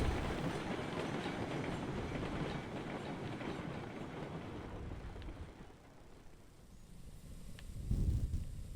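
Train carriages rolling along the track in the Railroads Online video game, a steady, fairly loud rumble with a faint rhythmic clatter that dips briefly and then swells again near the end.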